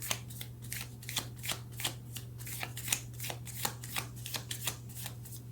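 Tarot cards being shuffled by hand in a quiet room, a rapid series of crisp riffling flutters in an uneven rhythm, close and fairly soft over a low steady hum.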